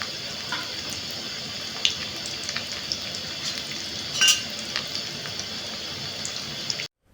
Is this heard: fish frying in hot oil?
yes